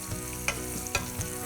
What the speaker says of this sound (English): So while our pan is still hot here, we're gonna add 2 cups of sliced mushrooms.